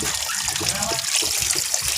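Water trickles into the chamber of a DIY pond filter built from an old fridge, a close, steady splashy flow that continues under a voice.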